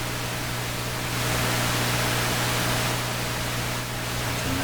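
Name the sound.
white noise from Heathkit AJ-11 receiver FM side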